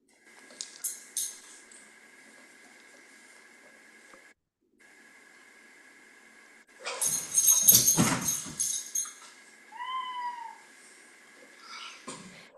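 A dog whimpers with a couple of short high-pitched whines, after a burst of rustling noise, over a steady electronic hum.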